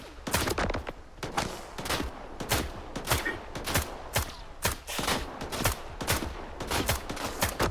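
Enemy gunfire aimed at the player in STALKER 2: Heart of Chornobyl, a steady stream of sharp, loud shots and short bursts cracking every fraction of a second, nearby and relentless, without speech.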